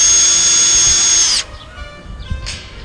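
Cordless power drill with a clutch and no hammer function runs in one steady high-pitched whine for about a second and a half, then cuts off, leaving a brief faint spin and quiet handling noise.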